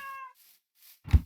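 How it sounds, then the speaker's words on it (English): A cat meows in the Minecraft video game, with a short harmonic mew, then faint breathy sounds and a brief low thump at the end. "Wait, I heard a cat."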